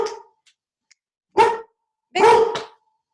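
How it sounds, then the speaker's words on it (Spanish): Dogs bark about four times in separate loud, close bursts, with short quiet gaps between them and no talking. "hay un poquito de interferencia por unos ladridos"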